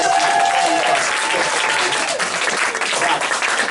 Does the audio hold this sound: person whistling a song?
no